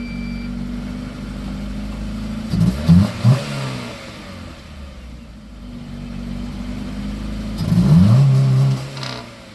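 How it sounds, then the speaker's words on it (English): Honda CRX with a DC Sport header and stock exhaust, idling steadily before two sharp blips of revs, a lull back to idle, then another quick burst of throttle, close and loud. "we'll give you a quick rev of the Honda CRX here"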